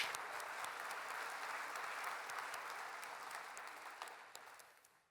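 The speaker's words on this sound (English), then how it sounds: "let's please give Eric a round of applause for bravely coming up on stage" Audience applause at a Jamf conference in London, steady dense clapping from a large crowd that holds evenly for about five seconds before tapering off at the end, with no talk over it.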